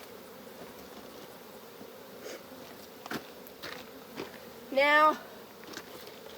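Honey bees buzz around a hive frame being cleared for harvest, a soft steady drone with scattered knocks and one louder buzzing pass near the end; someone speaks briefly.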